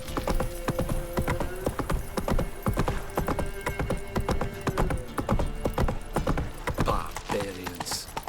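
Roach, a horse in The Witcher 3, gallops in a rapid, loud, continuous clip-clop of hooves with tack rattling, and a short neigh rises near the end; no speech.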